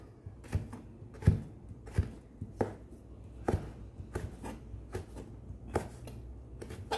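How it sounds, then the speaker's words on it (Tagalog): A knife slices food lengthwise for a vegetable salad, making about a dozen sharp, irregular strikes against a cutting board, close and fairly quiet with no talk. "pagkatapos, hiwain natin siya ng pahaba"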